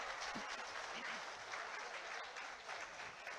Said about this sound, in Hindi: दोनों हाथ ऊपर उठाकर जोरदार तालियां